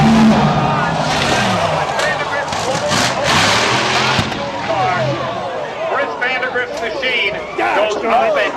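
A top fuel dragster runs down the drag strip at full roar, loud and continuous, with crowd and commentator voices talking over it throughout.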